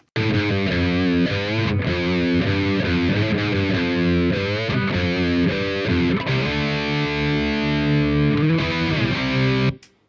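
Electric guitar played through the Amplitube 5 amp head with no EQ, giving a muted, distorted tone. Chords and riffs ring steadily and loud for about ten seconds, then stop abruptly, with no talk.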